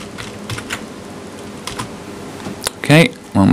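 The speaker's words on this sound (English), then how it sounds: "let's go ahead and type it." Keys tapped on a computer keyboard to enter an admin password while installing applications in Fedora 15, a sparse run of light clicks followed by a louder burst of faster keystrokes near the end.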